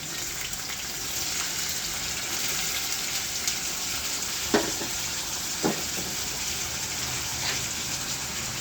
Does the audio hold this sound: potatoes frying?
yes